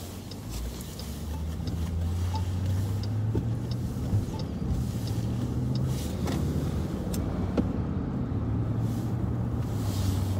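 A Ford Mustang police patrol car drives along with a steady low engine drone and road rumble inside the cabin, plus a few faint clicks, with no one speaking.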